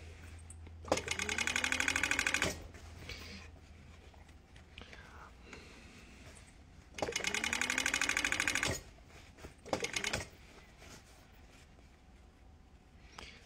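A Union Special 43200G industrial sewing machine hems thick fabric, running in two long loud bursts and one short one with a steady motor hum between them, and faint talk underneath.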